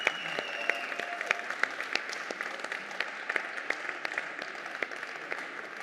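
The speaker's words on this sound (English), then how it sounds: "And that's a big applause for Julia." Applause from a keynote audience at a laser company's event, a steady sustained clatter of many hands clapping with sharp individual claps standing out, filling the whole stretch with no voices over it.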